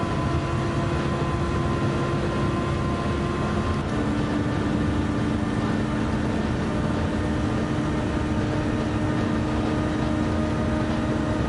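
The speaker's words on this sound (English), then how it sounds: "I can literally hear the V8 bi-turbo engine behind me." Mercedes V8 bi-turbo GT3 race car engine in Gran Turismo 7, a steady, continuous drone with a sustained pitch that shifts slightly partway through, loud and alone without talk.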